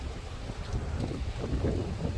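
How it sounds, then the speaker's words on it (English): Steady wind buffets the microphone with a low, rumbling roar that swells and eases slightly throughout, with no voices, on a paved trail at Lake Guntersville State Park. "Oh, it's really windy."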